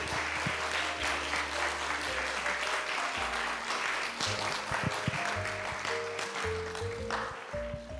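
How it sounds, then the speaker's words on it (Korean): Loud, sustained applause from a church youth service congregation, with steady clapping over music playing in the background. "큰 박수로 맞이해 주세요."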